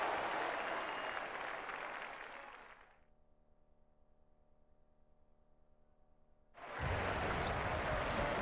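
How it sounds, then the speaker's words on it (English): Arena crowd applause at the Air Canada Centre in NBA 2K18 roars loudly and steadily, drops out to a quiet stretch of sustained tonal music, then bursts back in at full strength. "The crowd is assembled at the Air Canada Centre, looking for a Raptors victory here in Toronto."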